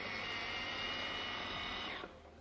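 A food processor blends chopped raw tomatoes for a spaghetti sauce, its motor whirring loudly and steadily for about two seconds before spinning down.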